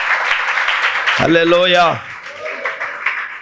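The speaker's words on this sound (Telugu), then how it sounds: "చప్పట్లు కొట్టండి గట్టిగా" A church congregation claps hard in a dense, continuous patter while a preacher's loud voice shouts over the applause.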